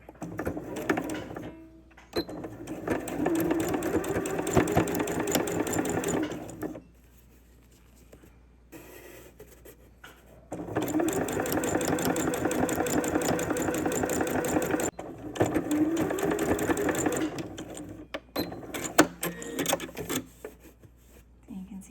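A sewing machine stitches a curtain in two long bursts and a shorter one, a steady close mechanical whir broken by quiet gaps. A voice talks over parts of it.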